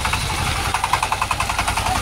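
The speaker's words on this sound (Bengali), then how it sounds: "পাওয়ার টিলার দিয়ে হাল চাষ করা হচ্ছে।" A Saifeng 25 horsepower power tiller engine ploughing a field, a loud, close single-cylinder diesel chug with a steady rapid knocking rhythm and mechanical clatter, running without pause.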